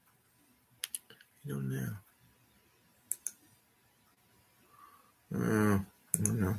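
Short bursts of clicking on a computer keyboard, a few quick keystrokes scattered between brief moments of people talking nearby.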